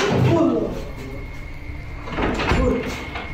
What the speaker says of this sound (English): something pounds against the door and then rattles it